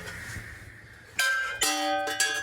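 Hand-forged steel bells mounted together on one handle ring out in three bright, sustained strikes, each with long shimmering overtones, loud and close after a quieter start.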